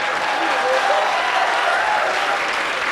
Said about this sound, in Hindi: हमारे दुख में तालियां बजाओ।